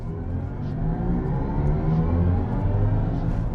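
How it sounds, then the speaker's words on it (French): Artificial engine sound from a BMW iX3 electric car in sport mode, a steady synthetic humming drone with layered tones that swells slightly and stays smooth throughout. "Il change le Iconic Sound, donc ça c'est le son qu'on a dans la voiture, une sorte de faux son de moteur un petit peu artificiel"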